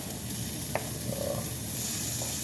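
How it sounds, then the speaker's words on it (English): Two small strips of bacon frying crisp in a pan, a steady close sizzle and hiss running throughout with a few faint clinks. "the bacon's fried up, crispy"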